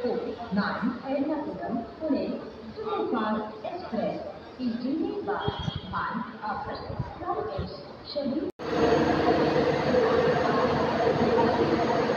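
The Pune–Secunderabad Shatabdi Express, train 12025 hauled by a WAP4 electric locomotive, draws up at a station platform amid busy passenger chatter and voices, then a sudden, louder steady rumble of rolling coaches takes over.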